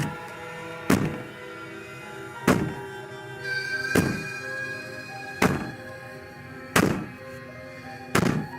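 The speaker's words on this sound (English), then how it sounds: "Maybe the banging and wailing will stop if you just don't pay attention to it." Heavy banging on a door in the game Slay the Princess, with loud, booming thuds at slow, irregular intervals over a low droning hum and a faint wailing tone in between.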